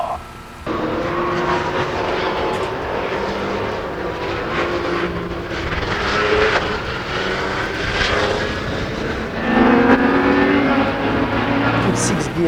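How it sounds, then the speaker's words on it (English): A Peugeot 908 HDi LMP1 V12 diesel endurance racing car drives past with a loud, gritty roaring engine that swells and changes pitch as it accelerates and shifts, sustained and close. "the engine sounds very nice actually, the V12"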